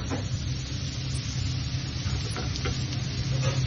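Lobster searing in a hot pan, a steady, dense sizzle that holds evenly throughout with a few faint ticks, close and moderately loud, with no talking.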